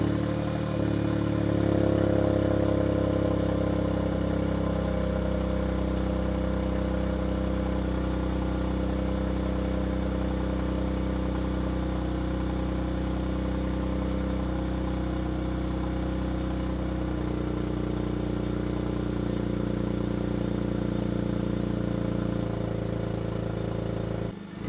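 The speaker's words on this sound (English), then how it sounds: "I'll put a startup clip here and a couple revs." A 2023 Toyota GR Corolla Circuit Edition three-cylinder engine turns over and settles into a deep, rumbling idle, with a few throttle blips swelling and falling back, steady and close throughout.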